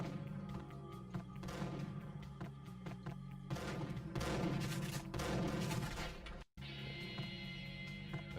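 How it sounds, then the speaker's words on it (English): Repeated explosions and bursts of gunfire from the Max Payne video game, loud and dense with thumping blasts over a continuous game soundtrack, broken by a brief cut before the action resumes. "Why are things exploding? What's happening?"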